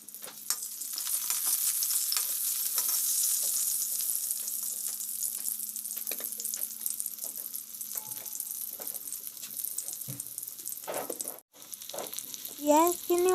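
Onions fry in mustard oil in a wok, giving a continuous close sizzle with occasional stirring clatter and a brief louder scrape near the end.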